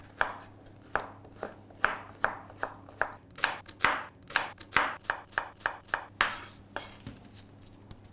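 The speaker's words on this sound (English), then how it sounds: "Start off by making the stuffing, which is spring onions finely chopped" A knife chops spring onions finely for a stuffing, giving roughly twenty crisp knocks on a board in a steady, slightly uneven rhythm, close and clear with no talking.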